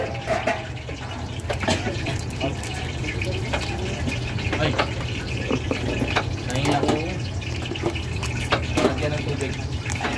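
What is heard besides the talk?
water filling a container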